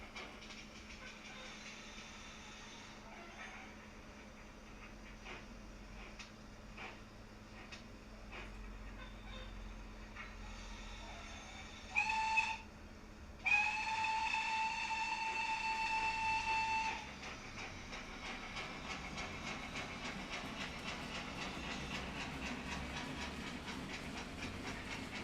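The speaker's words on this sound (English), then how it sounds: "It's one of the best sound locos I think I've ever used." A sound-equipped model steam locomotive runs around a railway layout, giving a steady low chuffing hiss with a rhythmic rail clatter and a brief, loud whistle blast partway through. No one speaks.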